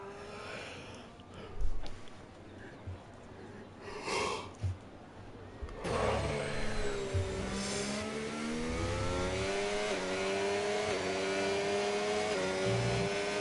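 A Williams F1 car in a racing video game on a push lap, its engine rising into a steady high whine that climbs through gears, with faint commentary voices underneath earlier on.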